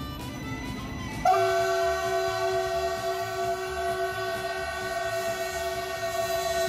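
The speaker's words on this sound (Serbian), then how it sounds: "Svi čekaju voz iz Prijepolja" A train arrives at a station and sounds a long, loud, sustained horn. The blast begins abruptly and holds for several seconds over a low rolling rumble, with no voices.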